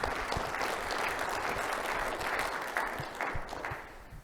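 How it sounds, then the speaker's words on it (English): Audience applause at a RISC-V technical conference talk, a dense, steady patter of clapping from a seated crowd that holds for several seconds and tapers slightly at the end, with no talking over it. "let's give Philipp a round of applause while he breathes"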